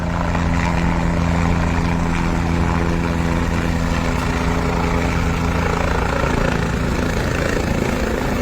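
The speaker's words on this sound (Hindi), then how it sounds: "रायगढ़ में एक हेलीकॉप्टर क्रैश हो गया" Helicopter trying to land at Mahad in Raigad shortly before crashing while carrying a Shiv Sena (UBT) leader: steady loud rotor and engine roar that stays constant throughout, with no voices.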